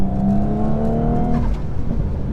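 Stage 1 Audi S4 engine pulling hard under acceleration, a steady loud rising drone of close-up engine note with rumbling exhaust, continuous for a couple of seconds with no talk.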